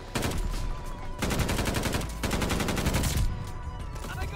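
Sustained automatic gunfire in a chaotic video game firefight, dense loud rattling bursts running almost continuously with a brief pause in the middle.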